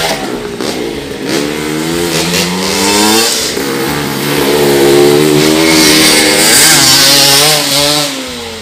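Motocross motorcycle engine at a practice session, revving hard and repeatedly with rising and falling pitch, loud and close, no speech.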